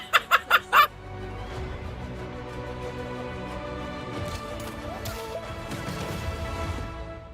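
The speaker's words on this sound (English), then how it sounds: "Bro just walked up and punted a chicken." A chicken kicked in a video game lets out a quick run of about five sharp clucking squawks, then steady in-game music and ambience carry on underneath.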